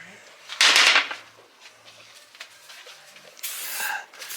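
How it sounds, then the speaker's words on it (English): Two sharp bursts of aerosol brake cleaner spray hiss, one short and one longer, with a quiet pause between them, during a brake pad and rotor job on a 2015 GMC Denali. "we'll go ahead and give her another spray"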